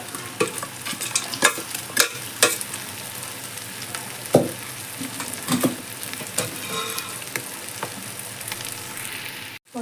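Pieces of goat head meat stirred and frying in a pan over a bright, steady sizzle. Irregular utensil scrapes and knocks come close and loud, and a sharp clatter sounds at the very end.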